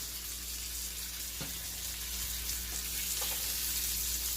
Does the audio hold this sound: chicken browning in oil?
yes